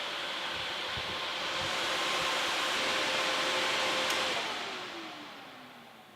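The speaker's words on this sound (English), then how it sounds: "Those fans blow." Cooling fans on a 10-GPU mining frame running continuously, a steady close whooshing rush with a faint tonal whine that swells slightly in the middle and then eases off.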